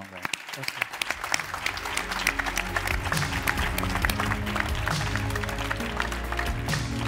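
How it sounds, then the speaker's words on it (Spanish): Audience applause at a Catalan conference session on social dialogue and collective representation, a dense steady patter of many hands with voices and crowd murmur mixed in, holding loud for about seven seconds. "un aplaudiment, sisplau, per tots vosaltres"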